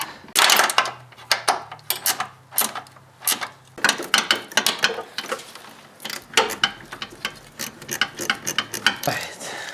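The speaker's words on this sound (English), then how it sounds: "Now I'm going to tighten these nuts to hold it in position." Nuts are tightened with a ratchet while an ABS control module is fitted on a 1999 Pontiac Grand Prix, making rapid, close metallic clicking in repeated short bursts over a faint low hum.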